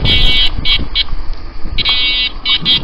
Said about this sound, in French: Le klaxon.